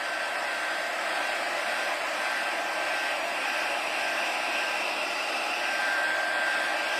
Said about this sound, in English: I am going to bring that heat tool over, and I am going to dry these pieces real quick